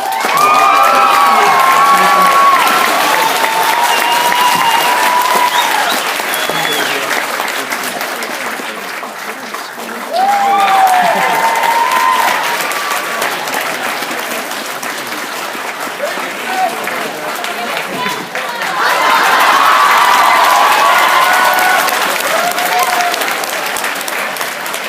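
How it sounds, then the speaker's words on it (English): Audience at a 2014 Kitsune Kon cosplay contest applauding and cheering, loud sustained clapping with whoops and shouts that swell, dip briefly, then surge again, with voices calling out over the crowd. "Round of applause."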